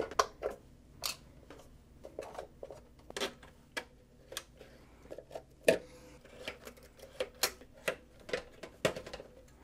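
Needle nose pliers snip bent 1.0 flux core welding wire in a string of sharp, dry clicks and snaps at an uneven pace, close by and fairly quiet against a hushed room.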